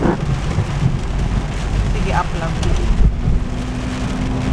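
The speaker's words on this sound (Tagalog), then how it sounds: "Super lakas ng ulan. Ay! Lakas pa ng thunder." Heavy rain pours down in a steady, loud hiss during a thunderstorm, with low thunder rumbling underneath, and a person briefly speaks over it.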